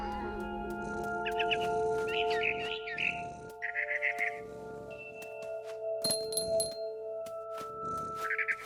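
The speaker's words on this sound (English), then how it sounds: "Then I heard chirping outside my window. It was a barn swallow going back to her nest." A barn swallow chirps outside a window as it returns to its nest in the video game What Remains of Edith Finch, giving several short bursts of bright, fluttering calls over quiet ambient tones.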